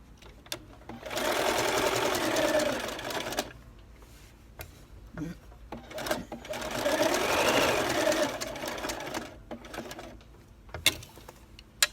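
Sewing machine stitching an embroidered scallop edge onto a lace hem, running loud and close in two sustained bursts of whirring stitches separated by pauses with small clicks and handling noises.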